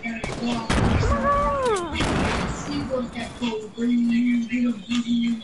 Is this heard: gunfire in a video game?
yes